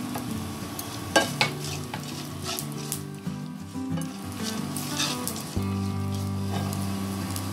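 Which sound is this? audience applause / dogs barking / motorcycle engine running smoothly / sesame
sesame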